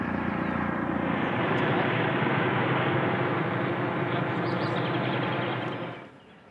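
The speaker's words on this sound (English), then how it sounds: "There's the helicopter." A loud, steady engine roar of a helicopter passing close by, holding for several seconds before quickly fading out.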